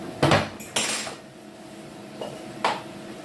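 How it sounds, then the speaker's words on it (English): A fork stirs ackee and saltfish in a metal pan, making a few sharp clinks and scrapes against the pan, spaced irregularly over a quiet kitchen background with no speech. "I'll be using a fork to stir it up."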